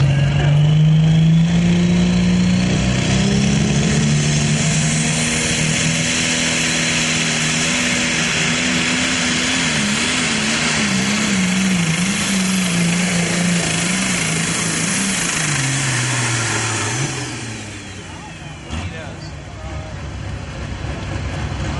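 Diesel super stock tractor at an NTPA pull in Wilmington, Ohio, its engine roaring loud and sustained as power builds, pitch rising and wavering, then dropping off near the end of the pull, heard from the track side.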